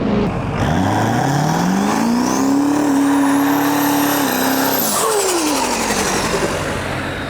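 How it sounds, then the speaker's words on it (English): A Chevrolet Nova with a swapped-in Duramax diesel engine roars loud and close at about 92 mph, its pitch climbing steadily as it accelerates hard, holding a high whine, then dropping away as it eases off. "that thing sounds incredible. Good old diesel power."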